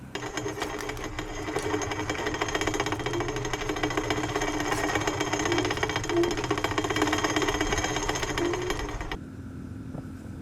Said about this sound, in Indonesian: Jadi standar tengah dudukan kaki standar tengah motor ini itu beradu dengan si rantai penggeraknya.